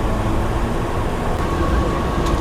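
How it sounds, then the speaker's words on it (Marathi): A local commuter train running from Khopoli toward Kalyan gives a loud, steady rumble and roar from inside or close by, continuous and without talking. "आपली ट्रेन खोपोलीवरून कल्याणसाठी जाण्यासाठी सुटलेली आहे."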